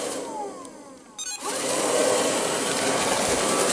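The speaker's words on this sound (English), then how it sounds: "Again vacuuming anything in its path." An Ilife V3s robotic floor sweeper vacuuming a landing in a house, a steady close-up whirring hum of its motor and brushes, briefly dipping with a few clicks as it turns, then droning on evenly.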